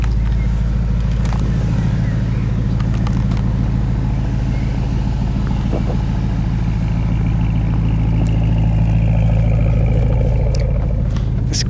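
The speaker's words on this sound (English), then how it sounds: "But this sport exhaust is loud." Porsche Panamera Turbo S E-Hybrid Sport Turismo engine running through its sport exhaust, a loud, steady, deep rumble heard from inside the car, continuous for the whole stretch with faint background noises over it.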